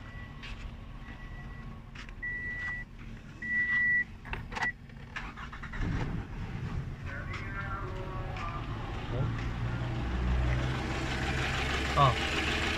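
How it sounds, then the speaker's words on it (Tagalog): A car with a faulty ignition coil and a misfire is started and left idling, the engine catching partway through and settling into an uneven, rumbling idle while a person talks nearby. "start natin yung sasakyan"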